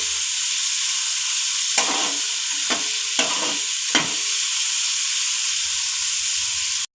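Onion fries in a pan over a medium gas flame for besan bhurji. A continuous bright sizzle carries throughout, broken by four or five short scraping stir strokes, with no talking.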